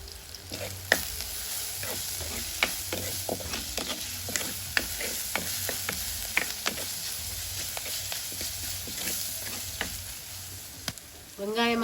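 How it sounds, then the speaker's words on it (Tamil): Onions and curry leaves sauté in a pan with a continuous close sizzle, broken by frequent scraping stirs of a spoon, and a brief louder crackle comes at the end. "வெங்காயம் வதங்கிட்டுது."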